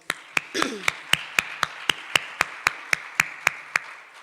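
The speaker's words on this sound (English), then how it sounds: "let's give a round of an applause to the recipients of the bursary funds" A round of applause for bursary recipients at a mayoral bursary handover, heard as a steady run of about fifteen sharp, evenly spaced claps over a soft background murmur.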